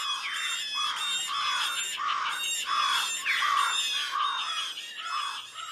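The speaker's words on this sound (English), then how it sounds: "listen for crows, jays, titmice, and any other birds aggressively alerting the whole forest to the presence of a barred owl" Crows, jays and titmice raise harsh, repeated alarm calls in a forest while mobbing a barred owl, a steady chorus of loud overlapping squawks and scolding notes close by.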